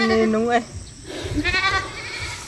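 A pet goat bleats twice while being harassed by dogs, a wavering cry up close then a shorter second bleat, with some background noise between.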